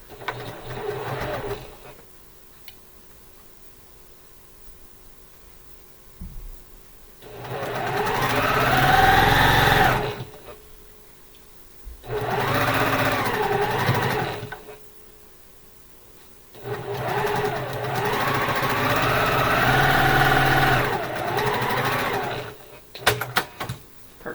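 A sewing machine chain-pieces quilt blocks in three long, loud runs of steady, fast stitching, with short quiet pauses between them. No one speaks.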